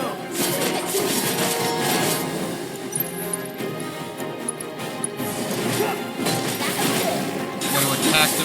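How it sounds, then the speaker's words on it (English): A shield shattering in Final Fantasy VII, a loud crashing smash around the three-second mark layered over dense, continuous battle effects and music with no speech. "That shatters the shield."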